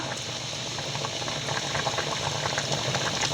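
Fish molly curry with fish pieces and chopped potato simmers in a pot, making a dense, continuous bubbling and hissing wash of liquid that holds steady and close throughout, with no voices.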